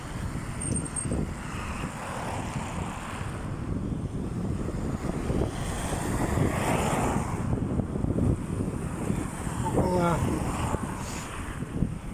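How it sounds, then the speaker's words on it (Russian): Strong gusty wind in Yakutsk, Siberia, in March at around minus 20 buffets the microphone throughout, a steady roaring rush with low rumbling and no clear voices. "Ветрено, правда."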